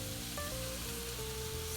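Sourdough bread dough sizzles in a hot cast iron pot with a steady, soft hiss, faint and unbroken throughout, while a thin tone sounds briefly in the background.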